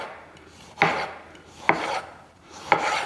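Three crisp knife chops land about a second apart on a cutting board as vegetables for tabouli are sliced with a sharp knife, each a sharp close thud trailing into a brief scrape.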